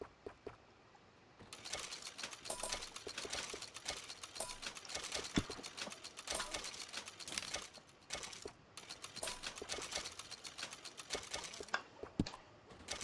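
A horse's hooves clip-clop steadily in Red Dead Redemption 2, a quick, busy patter of close, crisp hoofbeats that starts after a quiet second and carries on to the end.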